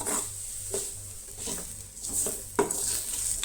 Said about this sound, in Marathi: ही पळयात आतां सोय भाजून घेयात, हलकीशी भाजून घेवपाक जाय